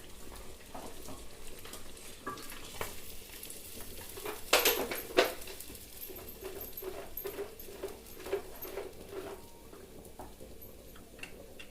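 Fish frying in a pan at home, crackling steadily at moderate volume, with a brief louder clatter and hiss midway as a piece is flipped over; no talking.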